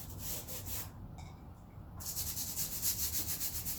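Close, rhythmic scrubbing of a Yamaha DTR 125 motorcycle chain soaked in thinners, with a steady brushing hiss that pauses briefly before resuming in regular strokes.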